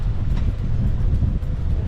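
Strong wind roaring steadily against the microphone, a dense low rumble with slight gusting, no voices.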